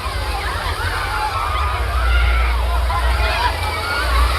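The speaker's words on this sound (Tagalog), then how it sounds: "Lumakas na namang wave" Strong sea waves slosh and churn close by at a beach resort, a steady loud wash of water with low rumbling surges rising and falling throughout.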